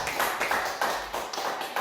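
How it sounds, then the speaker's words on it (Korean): Hands clap in a church youth worship service, a steady run of claps with no voices over them, moderately loud and close. "박수로 하나님께 영광 돌리도록 하겠습니다"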